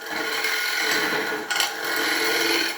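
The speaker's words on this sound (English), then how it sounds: "Clean the face of that tenon up." A woodturning tool scrapes across the face of a spinning ash tenon on a lathe, a continuous close, moderately loud raspy hiss with a brief dip partway through.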